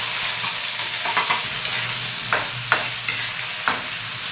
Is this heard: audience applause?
no